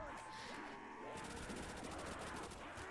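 Rapid automatic Thompson submachine gun fire in the Der Riese zombies mode of a video game, a continuous rattle of bursts layered with game effects for the whole stretch.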